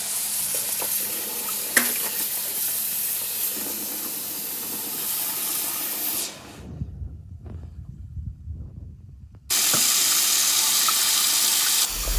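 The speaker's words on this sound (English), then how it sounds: "We're washing the pop chow in salt water." Water running steadily into a bowl with a loud rushing hiss while fish are washed in salt water, pausing for a few seconds of quieter sloshing and splashing, then the flow resumes.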